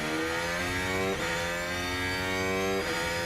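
Formula 1 race car engines in the racing management game F1 Manager 2023 drone at high pitch in a steady, loud whine, with a couple of quick gear-shift dips and no talk over it.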